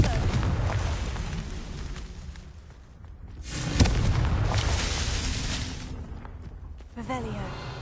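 Confringo fire spell in Hogwarts Legacy bursts with a booming, hissing blast that swells in the middle, rumbles on, then a smaller pop follows near the end; speech is present.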